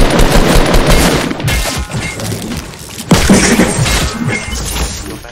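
Loud pistol gunfire in the battle royale video game Fortnite, with sharp bursts and crashing hits in quick succession that leave a short lull before another hard crack, heard alone with no talk.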